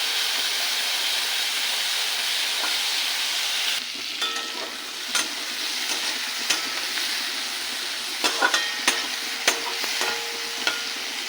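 Prawns (chingri) fry in oil in a wok, a steady loud sizzling hiss that drops somewhat partway through, broken by scattered spatula scrapes and clinks against the pan, with no talk.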